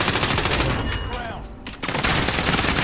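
Dense rapid gunfire fills a Call of Duty: Modern Warfare match, loud and continuous with a brief dip in the middle before the shooting surges back at full intensity.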